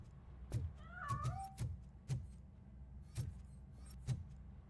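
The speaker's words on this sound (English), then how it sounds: "That cat must be hiding inside." A cat in the video game RoboCop: Rogue City, hiding inside a piano, gives a few short meows over a series of soft thuds and knocks, fairly faint and close.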